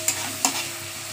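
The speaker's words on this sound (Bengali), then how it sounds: "এটা ভাজা ভাজা হোক, পেঁয়াজ রসুনটা ভাজা হতে থাকুক।" Onion and garlic fry in a pan, a close steady sizzle broken by two quick scraping stirs of a spatula.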